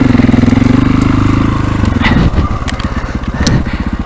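A 525 dirt bike motorcycle engine on a trail, close and loud: a throbbing, rapidly pulsing exhaust that eases off, then picks up with rougher revving and a few clattering knocks.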